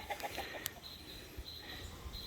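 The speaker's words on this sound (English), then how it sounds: "Rooster was messing with that little black hen" Chickens on a homestead, a rooster among them, cluck softly and sporadically in the distance against faint outdoor background noise.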